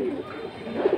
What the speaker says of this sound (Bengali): একেবারে অরিজিনাল সাপচিলা কবুতর।